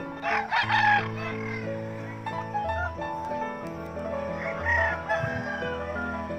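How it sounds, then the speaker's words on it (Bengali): Roosters crow loudly and repeatedly at a cockfight in a hill village, their long cock-a-doodle-doo calls overlapping close by against steady background crowd noise. "মুরগির লড়াই দেখাচ্ছি তোমাদের"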